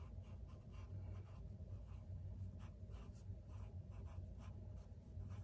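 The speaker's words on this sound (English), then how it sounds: "I can't go without putting my name on my paper." Pencil scratching steadily across paper in short, repeated strokes, close up, with a constant low hum underneath.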